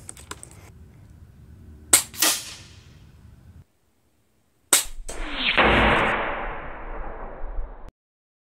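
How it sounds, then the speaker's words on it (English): An Uragan compact bullpup PCP airgun fires with sharp close cracks, followed by a brief clatter. After a short silence a louder crack gives way to a long hissing air rush that fades over a few seconds. "I knew that was going to be a good shot because I held the gun very still and I did my part"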